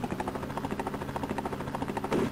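Helicopter in the Commodore Amiga game Rescue, a steady rapid rotor chop with a fast pulsing rhythm, continuous and fairly loud throughout.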